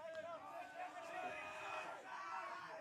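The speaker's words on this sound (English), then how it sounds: "Crowd now getting rowdy." Rowdy crowd at a men's open club national softball grand final in New Zealand, cheering and whooping with overlapping voices that swell and dip in a sustained roar.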